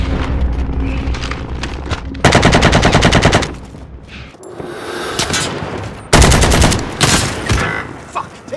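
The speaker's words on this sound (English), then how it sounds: "taking heavy fire" In the Warzone video game, heavy gunfire comes as loud, dense automatic bursts with booming impacts. Two sustained volleys are separated by a brief lull, all close and overwhelming.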